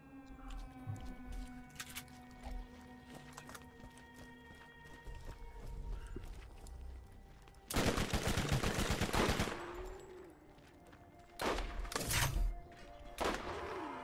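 Weapon fire in the video game Borderlands, heard as two dense bursts of rapid shots, one long and one shorter, standing out loudly over a quieter game soundscape.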